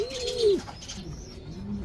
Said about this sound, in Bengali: নটটা আসলে সারাক্ষণ ডাকতেই থাকে